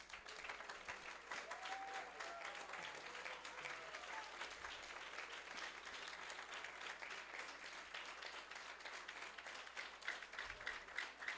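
Graduation audience at a Sai Center gives a long, steady round of applause for a student named Rahul. The clapping is continuous and moderately distant, with a faint voice and low hum underneath.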